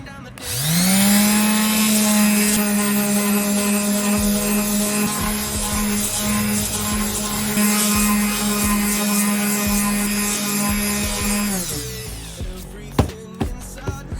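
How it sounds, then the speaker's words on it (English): A palm sander grinds body filler on the bumper cover of a 1994 Acura Integra, giving a loud, steady high-pitched motor whine for about eleven seconds before it shuts off, followed by a few light knocks. "so to speed things up, I'm going to use a palm sander"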